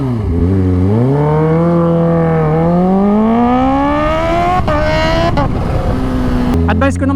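A Kawasaki H2 motorcycle with a titanium exhaust revs loudly up close, its engine note climbing steadily in a long rising pull, then snapping off with sharp pops and crackles before settling back to a deep, throbbing idle.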